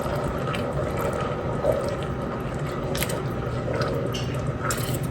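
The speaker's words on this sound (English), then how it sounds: "we've got a little boil coming. All right, at this point I'm going to start stirring." A sugar mixture for no-bake oatmeal chocolate bars comes to a boil in a pot while being stirred, giving a steady bubbling, wet churning wash with faint clicks of the spoon throughout, close and even.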